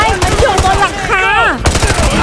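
Bursts of machine gun fire pulse in a fast, regular rhythm in Call of Duty Modern Warfare 2 Remastered, close and loud, with a voice speaking over them.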